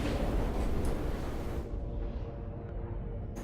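A pirate ship blows up in EVE Online combat, a loud, broad rumbling blast that fills the space and holds steady before its bright top end falls away into a lingering low roar.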